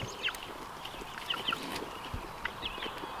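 Scattered soft clucks and short calls from several chickens, fairly faint against a steady outdoor background hiss.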